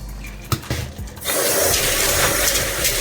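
A few soft knocks, then running tap water gushes steadily into a sink as peas are rinsed, close and loud, continuing to the end without speech.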